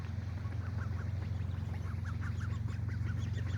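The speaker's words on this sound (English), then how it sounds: "That is our future duck population." Ducks making soft, repeated quacking calls over a steady low engine-like hum, fairly near, in a short run of calls without speech.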